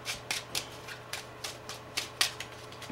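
A deck of playing cards is shuffled during a card trick, giving a series of crisp, close slapping and flicking taps at an uneven pace over a faint background hum.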